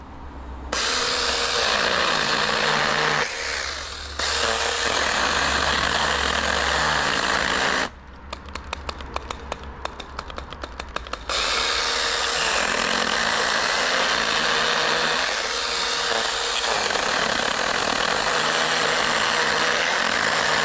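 A power saw cutting into a statue whines and drones loudly and continuously, dipping briefly and straining with a rapid chattering stretch midway, heard up close with no talk.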